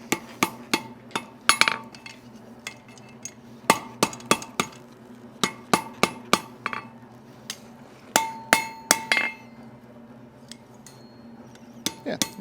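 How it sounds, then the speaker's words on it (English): A hammer strikes a hot chain link at the forge to close the weld lines, with sharp ringing blows landing in quick uneven bursts and short pauses between them, close and clear. "Give it a couple blows, focus on those weld lines, make sure they're nice and closed up."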